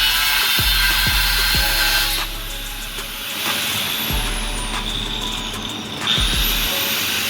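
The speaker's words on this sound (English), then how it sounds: "grind on that frame is loud" An angle grinder works a racecar trailer's steel frame in loud, sustained bursts, its whine cutting out and restarting a few times with brief clanks and knocks between runs, close up with no voices.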